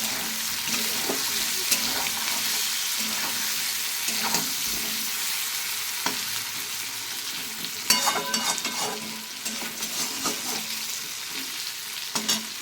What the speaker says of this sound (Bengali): আর এদিকে আলুগুলো আস্তে আস্তে ভেজে নিই।